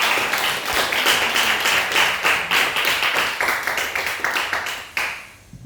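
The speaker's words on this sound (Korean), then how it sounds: "그래서 우리 다 함께 위로와 격려의 박수를 한번 올려드려야 합니다." Church congregation clapping together in encouragement during a Korean service, a brisk steady round of many hands at close range that thins and tapers off near the end.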